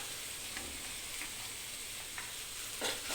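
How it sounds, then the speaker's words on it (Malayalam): Tomatoes hit a hot frying pan and sizzle steadily, with a few stirring scrapes and soft clinks breaking through the low, even crackle; no one speaks. "തക്കാളി ഇടാൻ പോവുകയാണ്."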